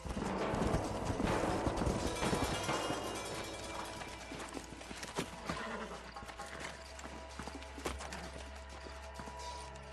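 Hooves clip-clop in a steady trot with a horse whinnying in the video game Red Dead Redemption, set against a busy outdoor game soundscape that fades slightly after the first few seconds.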